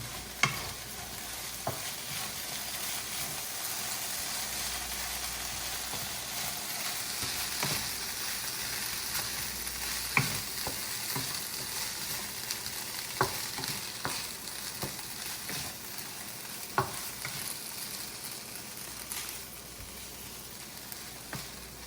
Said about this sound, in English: And we're ready to add our cilantro. And we're gonna stir that in.